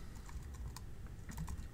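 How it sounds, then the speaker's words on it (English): Quick, light keystrokes tapping on a computer keyboard, a steady close patter of clicks lasting under two seconds at low level. "Let me type"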